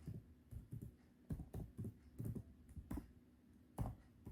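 Fingers typing on a computer keyboard, entering a printf line of C code: a close, quiet run of irregular clicky keystrokes in short bursts with brief pauses, with no talking.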